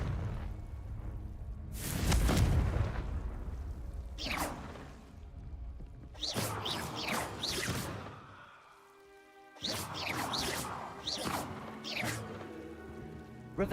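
Confringo fire spell explosions from the Hogwarts Legacy video game, several loud crashing bursts and swooshes in clusters separated by brief quieter gaps, with game sound effects throughout.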